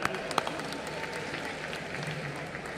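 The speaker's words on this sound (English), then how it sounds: "Round of applause for them." Brief crowd applause at the closing ceremony of the 53rd International Film Festival of India in Goa, steady and fairly loud with a few distinct sharp claps.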